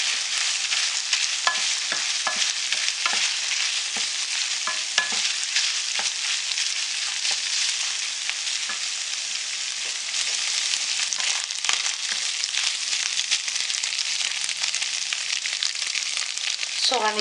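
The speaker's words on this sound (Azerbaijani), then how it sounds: "Yağda biraz qızartdıqdan sonra üzərinə sarı kök əlavə edirəm." Grated carrot frying with onion in melted butter, giving a loud continuous crackling sizzle with scattered stirring scrapes throughout.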